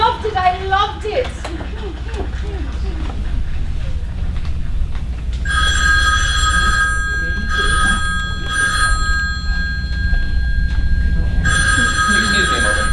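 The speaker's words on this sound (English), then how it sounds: "I have to answer the phone." A telephone bell rings on a live community theater stage during a production of Harvey, sounding in several loud bursts of ringing, starting a few seconds in, over low room noise and stage talk.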